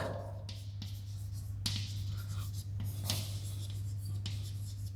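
Pen or chalk writing on paper or a board during a physics lecture on a moving coil galvanometer, heard as soft intermittent scratches and short strokes over a steady low hum, fairly faint and close.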